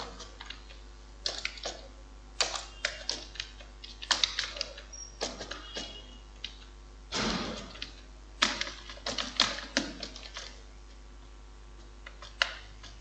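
Data typed into a table in MS Word on a computer keyboard: irregular bursts of soft, close key clicks with short pauses between words, fairly quiet and with no talking.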